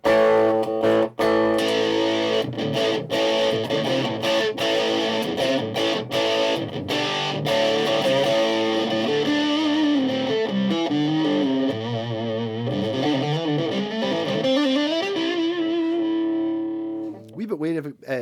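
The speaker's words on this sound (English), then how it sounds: "So it's a ridiculously powerful massive super distortion in this one." Electric guitar played through a very powerful super distortion pedal with all knobs at noon, thick saturated chords and notes ringing loud and sustained, ending in a decaying tail, with no voices.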